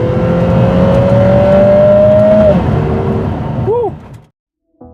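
A Lotus Emira i4 Turbo with a Milltek catback exhaust pulls hard through the gears, loud and close. The engine note climbs steadily, drops at a shift, rises again, then gives a short rev-matching blip before cutting out.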